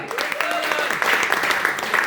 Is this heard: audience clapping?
yes